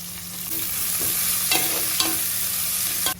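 Onion frying in oil in a pan, a steady close sizzle with a few soft stirring scrapes and taps throughout, no voices.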